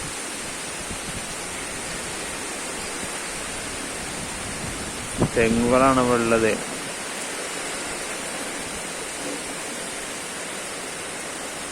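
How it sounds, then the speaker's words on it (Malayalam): Strong wind and rain sweep through coconut palms in a steady, broad rushing hiss, with someone briefly speaking over it midway. "ഇതാ നല്ല കാറ്റും മഴയാണ് ഇവിടെ വീശുന്നത്."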